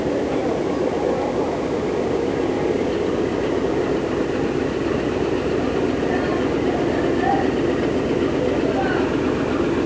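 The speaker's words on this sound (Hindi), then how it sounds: "ये है रोड़ी की रिलीफ ट्रेन जो कि आरजीई लोकोमोटिव के साथ रोड़ी जंक्शन के प्लेटफॉर्म नंबर 1 पर आ रही है।" Rohri relief train with an RGE locomotive arriving at platform 1 of Rohri Junction at night, a steady heavy engine rumble and rolling noise throughout, with a voice speaking over it.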